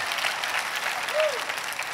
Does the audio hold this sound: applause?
yes